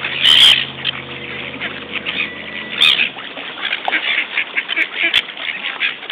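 A duck quacking loudly and close, harsh nasal squawks in quick succession, with rough outdoor noise around it as it competes with a seagull over a chip.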